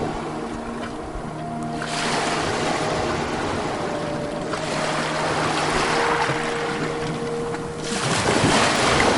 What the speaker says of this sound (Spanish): con las olas del mar.